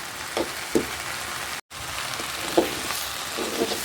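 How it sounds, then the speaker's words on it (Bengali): Olives fry in mustard oil with ginger, garlic and salt for a sweet-sour pickle, producing a soft, close sizzle with occasional small pops and a momentary cut in the sound; nobody speaks. "ভালো করে একটু ভেজে নিব।"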